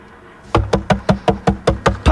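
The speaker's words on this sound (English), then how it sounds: "But Screech kept on knocking till his knuckles" Nine loud, evenly spaced knocks on a door ring out in a song, each a sharp close thump with a short boom, following a brief quiet lead-in.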